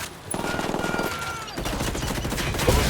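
Rapid, dense automatic gunfire rattles in a tight, sustained burst during a cartel firefight in Ghost Recon Wildlands, loud and close throughout.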